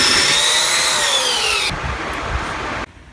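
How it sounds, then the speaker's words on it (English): Belt sander working a small radius groove in wood for an outdoor shower build, a loud steady whine with a slowly falling pitch that drops in level partway through, then cuts off abruptly near the end. "I take the belt sander and I just dip it right down into that little groove"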